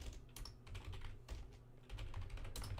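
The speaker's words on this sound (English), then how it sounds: "I'm reading this tweet out to you guys because I need you all to hear it as I'm typing it out." Rapid, continuous clacking of typing on a computer keyboard during a live sports reaction stream. Steady, close keystrokes run the whole time with no voices.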